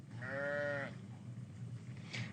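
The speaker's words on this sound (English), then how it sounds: "I can hear those lovely goats behind you" A single goat bleat from a grazing herd on a California farm, a wavering cry of under a second, moderately close over steady outdoor background noise.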